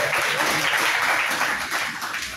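A church congregation at a Sunday service breaks into brief applause, a dense wash of clapping from many hands that swells and then fades over a couple of seconds.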